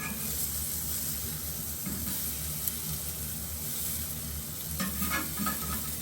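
Cauliflower steaks frying in a hot pan give a steady close sizzle and hiss with a few brief stirring clatters, no voices.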